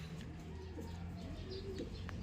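Racing pigeons coo softly nearby in a few low, rolling calls, with faint chirps and light background hiss in a quiet loft.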